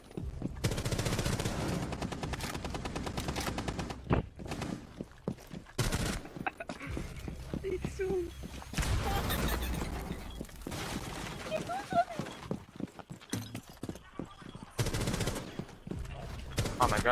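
Rapid gunfire bursts and single shots from Rainbow Six Siege come in irregular volleys over about seventeen seconds. Commentary voices talk through the shooting.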